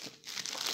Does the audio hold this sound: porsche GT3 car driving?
no